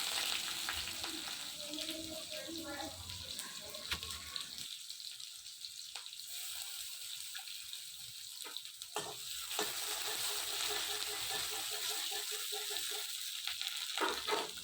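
Onion and garlic frying in a pan for Bengali masoor (red lentil) dal, a steady close hiss and crackle of oil that carries on throughout without any voices.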